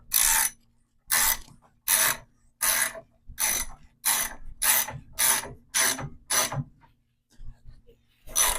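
A ratchet tightens a KYB motorcycle fork cartridge in about ten evenly spaced bursts of sharp clicking, each about half a second long, loud and close, with short pauses between them and no talk.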